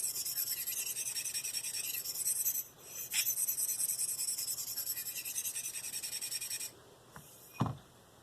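A Marttiini Lynx knife blade is sharpened with steady, close rasping strokes that continue for several seconds, then pause briefly and end with a couple of softer scrapes and a light knock.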